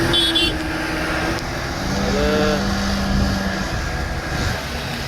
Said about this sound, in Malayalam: അടുത്തൊരു ബോട്ട് പോവാണ്